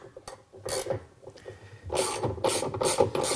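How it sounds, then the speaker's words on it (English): Ratchet handle tightening the bolt on a Whirlpool washer's upper agitator, close rapid clicking strokes in uneven bursts that grow louder and denser toward the end. "just put your ratchet handle on"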